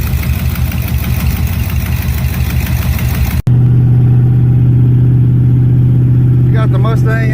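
A 1971 Pontiac LeMans T37 engine idles loud and steady while warming up, with a low constant rumble that continues after a brief cut partway through.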